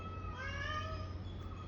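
A cat meows in several drawn-out, tonal cries over a steady low hum, fairly faint and with no talking, at a home where a mother cat and kitten are being fed cat food.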